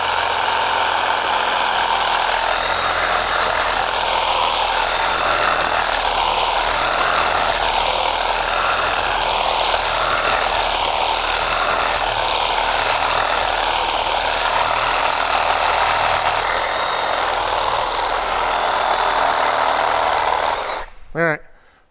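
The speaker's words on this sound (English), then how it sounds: "So let's just make a cut. I like to use a Sawzall." A Sawzall reciprocating saw cuts through a metal truck part during a lift kit install on a Mitsubishi U62T, a loud, steady buzzing drone running continuously for about twenty seconds before stopping abruptly.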